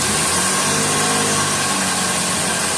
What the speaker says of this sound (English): So now the car is running.